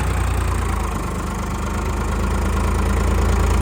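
A Farmtrac tractor engine idles steadily, a loud low rumble with a constant throb running the whole way through and no talk over it.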